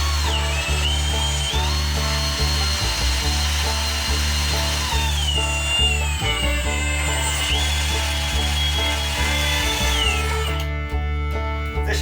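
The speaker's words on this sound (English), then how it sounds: "Tools for the job are a small drill, slightly bigger drill" A small drill bores a hole through the roof of a Sprinter van being converted into a campervan, a continuous close whine with pitch shifting as the bit bites, ending in a brief scrape.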